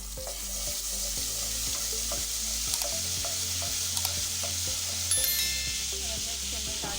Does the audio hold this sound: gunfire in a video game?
no